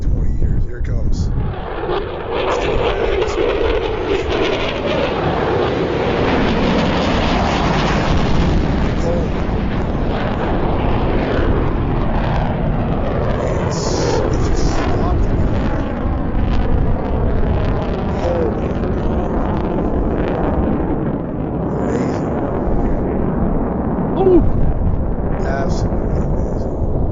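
A Northrop YF-23 Black Widow jet aircraft roars past, loud and broadband, its pitch sweeping down as it passes and lingering as a long rumble, with people talking over it.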